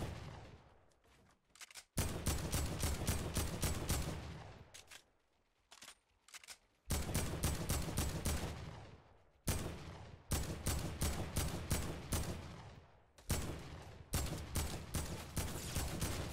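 Gunfire in the video game Fortnite, with rapid bursts of shots in several long volleys separated by brief quiet gaps, loud and close throughout, with no speech.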